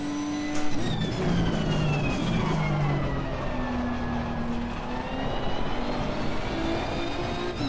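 A Nissan GT-R race car engine screams through gear changes at Spa in Assetto Corsa Competizione, its steady high whine rising and falling close up with no talk.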